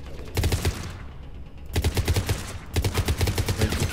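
High-recoil weapon in Mass Effect 3 fires loud, rapid automatic bursts in three clusters with short pauses between them, with no talking over the gunfire.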